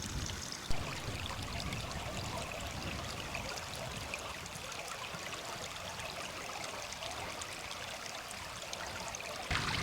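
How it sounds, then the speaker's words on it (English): A clear hill stream flows steadily in wild upland country, a continuous broadband rush and trickle of water that stays even and close throughout with no voices. "It's mainly this kind of stream here"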